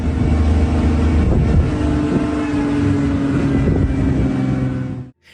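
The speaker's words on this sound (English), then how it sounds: "The forest echoed with the sounds of the car's engine and the thumping of the rhino's" A car engine runs loud and steady through a forest during a rhino chase, a continuous rumbling drone with wind buffeting the microphone, cutting out abruptly near the end.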